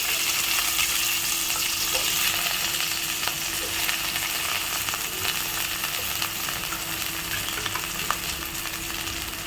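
Pirandai (veldt grape) stems fry in hot oil in a pan, a steady, dense sizzle that stays loud and even throughout with only faint occasional ticks.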